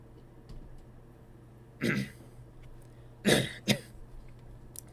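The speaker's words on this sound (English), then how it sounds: "I'm having a bit of a cough" Three short bursts of coughing and throat clearing from one person nearby: a single rasp near two seconds, then two quick ones close together after three seconds, with quiet room hum between them.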